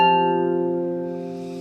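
Harp plays the closing two bars of a piece from Up as a single sustained chord with a clear plucked onset, ringing strongly and then fading slowly, played solo and close with no voices.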